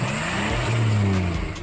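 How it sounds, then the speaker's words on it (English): A car engine, likely from a classic American muscle car collection, revs up strongly and steadily, rising and falling in pitch for about two seconds with no voices. "Let's start the engines."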